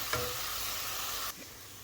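Onions sizzle steadily in a hot pan while cooking for a puti fish curry with cherry tomatoes. The frying hiss is loud and close, then drops to a quieter sizzle after about a second.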